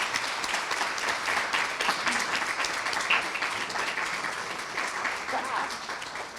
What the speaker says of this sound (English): Let's join another round of applause.